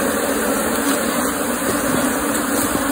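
Apis honey bees at a beehive box fill the scene with a steady, dense buzzing drone, close and continuous, with no voices.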